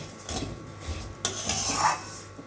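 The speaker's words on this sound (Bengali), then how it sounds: "এই যে ভাজা চালটা তুলে রাখলাম।" A utensil scrapes and scoops fried Gobindobhog rice out of a pan, giving a few short clinking and scraping strokes close by with a faint sizzle underneath.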